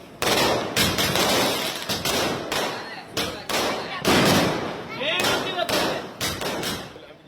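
Diwali firecrackers burst in rapid succession in Tamil Nadu, loud sharp bangs and thuds in an irregular volley, some overlapping, with crackling between blasts and crowd noise beneath.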